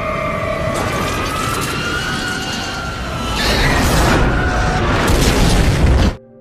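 A passenger plane crashes and explodes in the film Knowing: a loud, continuous roar with sirens wailing throughout, swelling into a heavier rumbling blast midway before cutting off abruptly.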